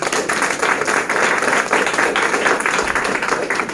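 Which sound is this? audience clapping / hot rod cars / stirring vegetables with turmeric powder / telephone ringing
audience clapping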